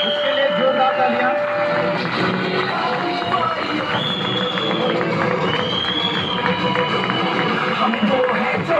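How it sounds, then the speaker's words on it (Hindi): Sustained applause and crowd noise from an audience at a business seminar, continuous clapping with cheering and voices over it, steady and moderately loud throughout. "एक जोरदार तालियां सर के लिए"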